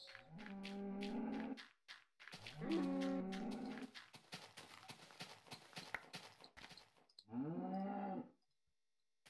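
Cows mooing in Minecraft on a farm, three long, loud, drawn-out moos with a stretch of clopping hoofsteps and rustling between them.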